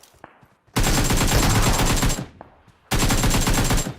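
Automatic gunfire rings out in the battle royale video game BGMI: two loud, rapid bursts, the first roughly a second and a half long and the second about one second, with a brief pause between them.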